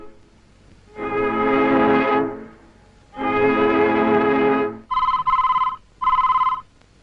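A telephone rings in two long bursts, then two shorter, higher-pitched trills, alone in a quiet room.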